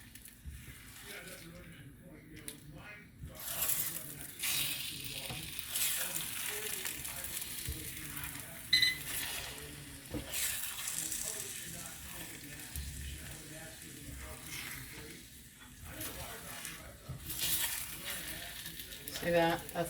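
Eggs and peppers sizzling and frying in a pan, a steady crackling hiss with occasional stirring and scraping, under a television news broadcast playing in the background.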